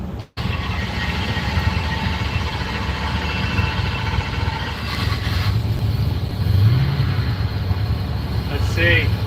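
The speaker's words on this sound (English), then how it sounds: "Yep, it idles about as bad as we expected." A car engine fitted with a bigger throttle body idles roughly, a steady low rumble with uneven surges and a brief blip of revving, heard close and continuous while a voice speaks over it.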